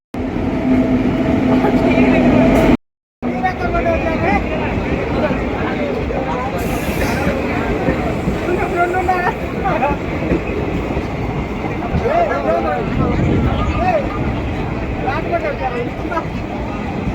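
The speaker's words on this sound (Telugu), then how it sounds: "ట్రైన్" A passenger train rumbles at a railway station, a steady loud rolling roar with some clatter that fills the whole stretch while people talk nearby and a brief cutout breaks it early on.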